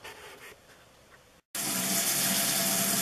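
Tap water runs hard into a sink for cleaning, a loud steady gush that starts abruptly after a brief quiet stretch and continues alone.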